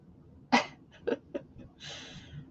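A single sharp sneeze close by, followed by a few short breathy bursts and a soft exhale, in an otherwise quiet room.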